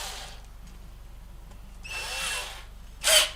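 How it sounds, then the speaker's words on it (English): A power drill with a 7/32 bit whirs in short bursts while pre-drilling pilot holes about 2 3/4 inches deep, spinning up loudly twice with a quieter low hum between. "we pre-drill these holes with the 7/32 drill bit around 2 3/4 inch deep"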